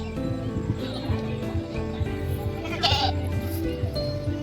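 A goat at a plant and garden exhibition in Thane bleats over a dense, continuous background of crowd noise and music, with one brighter cry standing out near the end.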